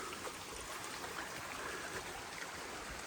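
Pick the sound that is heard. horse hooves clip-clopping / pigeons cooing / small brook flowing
small brook flowing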